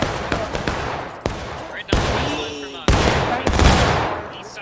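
Musket volleys in the Civil War video game War of Rights: several sharp, loud reports crack out at uneven intervals, some single and some in ragged clusters, over a steady background of battlefield noise.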